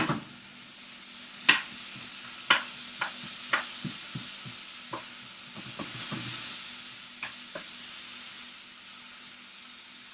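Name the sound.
spoon breaking up and stirring onion in frying pan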